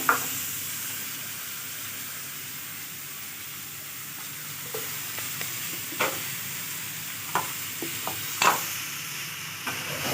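Ground cumin, coriander, turmeric and red chilli powder fry with salt in a pan for butter chicken, a soft steady sizzle under occasional sharp scrapes and taps of a stirring spoon, no voices.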